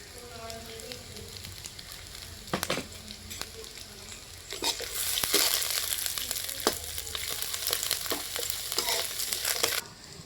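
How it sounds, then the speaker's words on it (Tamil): Dried red chillies and curry leaves fry in a pan for mint chutney, a steady crackling sizzle with sharp pops, swelling louder midway as stirring scrapes and clatters over it, with no talking. "அடுத்து காஞ்ச மிளகா கருவேப்பிலை போட்டுக்கலாம்."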